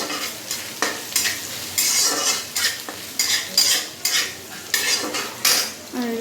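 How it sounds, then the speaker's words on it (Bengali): A utensil stirs vegetables frying in a pan before lentils go in, with repeated scraping strokes in a steady rhythm over a continuous sizzle, close and clear with no talking. "এবার এটাকে একটু ভাজবো"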